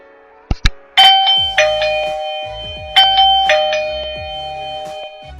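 Two short clicks come before a eufy Security dual camera video doorbell chime plays its electronic ding-dong twice, loud, close and ringing, with a low thump under each note and no voices.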